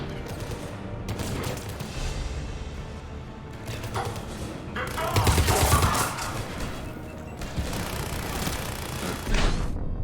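Combat in Mass Effect 3 with explosions and gunfire, dense and loud throughout, heavy blasts swelling around the middle and again near the end over a constant roar of battle noise, no voices.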